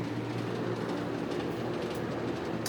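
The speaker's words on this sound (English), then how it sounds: "Rattles like crazy, but it works." A vintage portable fan running on high, giving a steady, even broadband whir with a faint low hum and a loose mechanical clatter underneath, continuous and close, with no voices.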